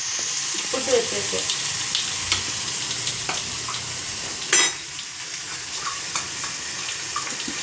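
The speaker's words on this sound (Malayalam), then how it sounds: "സവാള അരിഞ്ഞ് ഉപ്പിട്ട് വഴറ്റും." Chopped onion with salt sautéing in a pan for dosa and chili chutney, giving a steady close sizzle with a few sharper crackles and stirring clinks, no talk.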